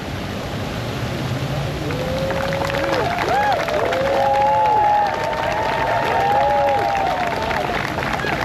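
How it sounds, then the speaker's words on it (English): Crowd applause for honored veterans at a ceremony fills the space as a steady, dense wash of clapping, with some scattered voices and a few whistles or cheers mixed in. "we applaud you."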